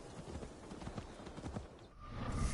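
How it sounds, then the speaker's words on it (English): Horse hooves clip-clop at a steady walking rhythm in the Assassin's Creed Valhalla video game, close and moderately loud, fading out near the end as a low rumble swells. "Let's return the horse"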